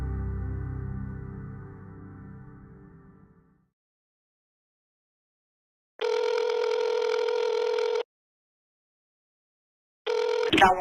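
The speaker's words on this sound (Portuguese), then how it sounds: "Então, ela pega o telefone e disca" A telephone line used to dial 911: a low humming tone fades out, then two long steady electronic tones sound with a stretch of silence between them. They are clear and alone.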